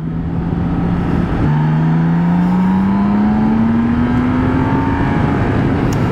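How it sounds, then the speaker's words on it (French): BMW K1600 Bagger motorcycle engine accelerating hard, a loud steady drone with a brief break at a gear change before the pitch climbs smoothly again under strong wind rush. "Les accélérations sont vraiment franches avec cette K16. C'est vraiment son moteur qui est agréable."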